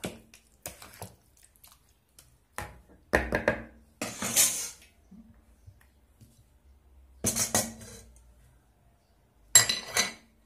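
Potatoes being mixed in a pan give a string of separate scrapes and metallic clinks, several sharp bursts spaced out with quiet gaps between them.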